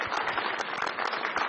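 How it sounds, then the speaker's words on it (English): An audience applauds panelists at a business event with continuous, dense clapping from many hands, fairly loud and close throughout. "Give a big round of applause to our panelists first"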